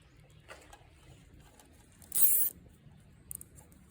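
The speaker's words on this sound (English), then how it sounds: "We'll just come right here and we'll just zip tie these up." Zip ties ratchet tight around truck lightbar wiring inside a stationary mailbox box, one long buzzing pull in the middle with a short, fainter zip before it and a brief one after.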